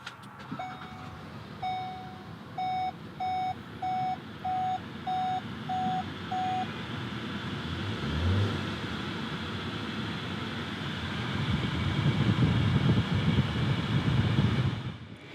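Inside a 2018 Volkswagen Tiguan SEL Premium, a chime beeps repeatedly at a steady pace as the push button is pressed, then the engine cranks and starts and settles into a low, steady idle hum.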